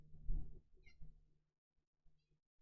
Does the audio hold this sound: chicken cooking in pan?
no